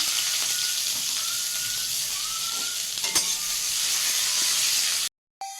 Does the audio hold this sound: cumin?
yes